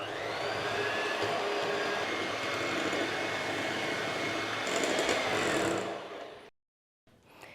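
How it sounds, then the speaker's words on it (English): An electric hand mixer beats eggs, added one at a time, into coffee walnut cupcake batter, whirring steadily and loudly up close for about six seconds before switching off, then a brief clatter. "I'm going to add one at a time while I mix them in."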